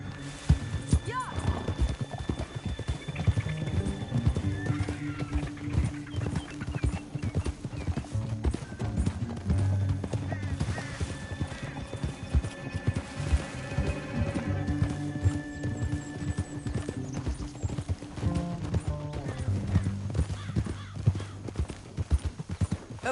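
Horse hooves clip-clop at a quick, steady gallop with a whinny, over a busy backdrop of music and scattered voices, in the video game Red Dead Redemption 2.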